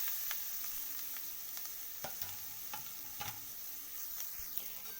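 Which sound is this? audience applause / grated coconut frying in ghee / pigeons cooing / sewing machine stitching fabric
grated coconut frying in ghee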